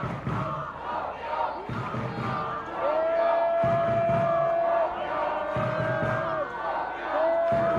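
Home crowd at a Kuopio Steelers American football game against the Porvoo Butchers, chanting "Kuopio" in a loud, rhythmic, sustained roar with long drawn-out sung syllables repeating every couple of seconds.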